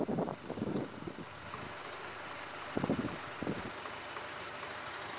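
An MTZ-82.1 tractor engine runs at a steady drone while cultivating sunflowers in a field with a KRN 5.6 cultivator, a faint, fairly distant mechanical hum with a few brief louder thumps and rustles near the start.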